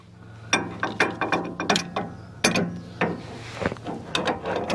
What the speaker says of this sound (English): Tell you what, I've got a bigger wrench.